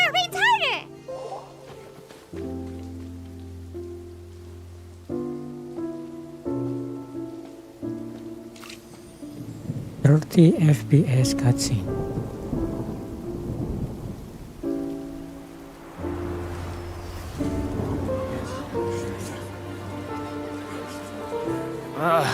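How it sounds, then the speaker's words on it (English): Rainfall and rolling thunder in the video game Genshin Impact, surging louder around the middle, set under a sustained musical score with voices talking over it. "It's raining!"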